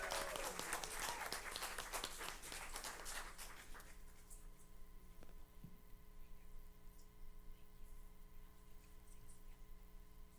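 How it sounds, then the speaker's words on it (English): Applause at a school board meeting rings out for a few seconds, then fades to a quiet room with a faint electrical hum and a few small sounds. "a huge round of applause"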